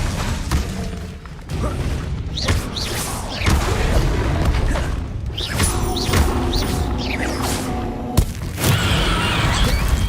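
Spell-casting combat in Hogwarts Legacy: a dense, continuous run of magical blasts, booms, whooshes and crackling impacts fills the clip, with sharp bursts at regular intervals and no pauses; voices shout briefly amid the effects.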